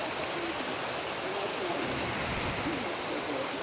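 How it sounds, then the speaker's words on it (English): A series of waterfalls in a gorge makes a steady, even rushing roar of falling water that continues unbroken throughout. "there is a bunch of series of waterfalls."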